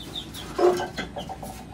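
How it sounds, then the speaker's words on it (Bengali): Chickens on a homestead make soft clucks and chirps as they are fed wheat by hand. The sounds are faint and scattered, with one slightly louder cluck amid low background noise. "এই গমটা এখন আমি মুরগিদেরকে দিয়ে নিই"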